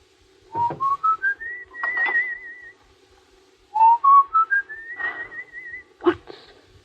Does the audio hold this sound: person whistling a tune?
yes